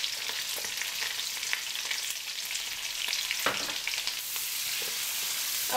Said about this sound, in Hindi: अब प्याज को हमने 5 मिनट तक फ्राई करना है।